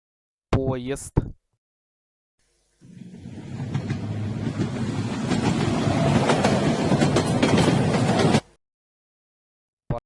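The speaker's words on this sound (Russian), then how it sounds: "Поезд." A train rolls past for several seconds with a steady, full rumble and rattling clatter of wheels on rails, loud and close, after a brief cartoon-style voice sound at the start.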